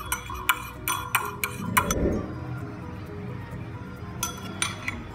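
A utensil stirs vinaigrette in a bowl for a Moroccan salad, giving light metallic clinks and ticks against the bowl. The clinks come in quick clusters, then a pause, then more clinks near the end, close and moderately soft.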